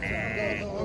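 Lambs bleating nearby, a continuous wavering cry that fills the short moment, with people talking faintly.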